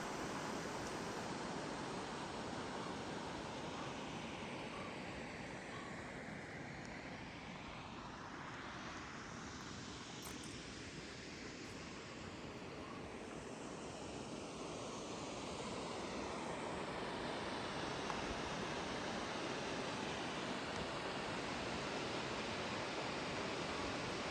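Rushing river water and waterfalls in Johnston Canyon, Alberta make a constant, full roar of turbulent flow that swells slightly toward the end, with no talking over it.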